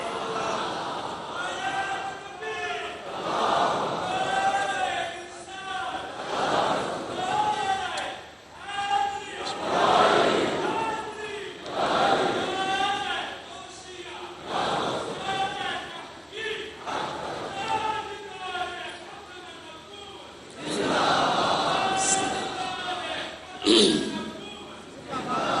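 A congregation at a Friday sermon chants religious slogans (naara) in loud, rhythmic, collective call-and-response bursts that rise and fall in repeated waves, with a crowd's voices echoing in a large hall.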